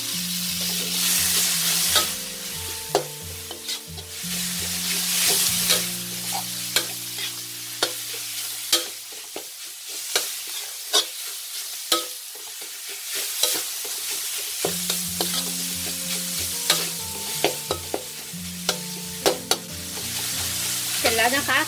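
Minced pork stir-frying in a pan for a Thai chilli dip, a steady loud sizzle with frequent scraping and tapping of a utensil stirring against the pan, no talking.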